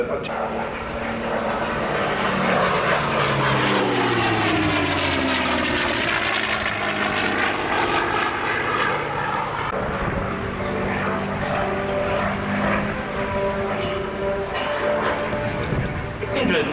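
A propeller aircraft engine on a plane built in 1948 drones loudly at an air show, its pitch sweeping as the plane passes nearby, with a voice speaking over the steady roar.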